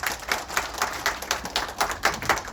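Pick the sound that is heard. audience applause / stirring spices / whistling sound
audience applause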